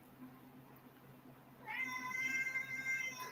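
A pet cat in an office gives a drawn-out, fairly close meow that starts partway through after a quiet room tone and carries on to the end.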